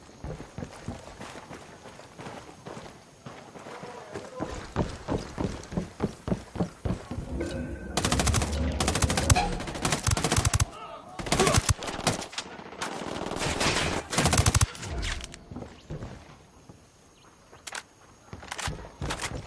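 Rapid automatic gunfire and scattered single shots from an enemy engagement in the video game Ghost Recon Wildlands, loud bursts of rattling fire that come and go across the span, with footsteps and movement between them.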